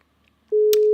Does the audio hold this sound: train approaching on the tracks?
no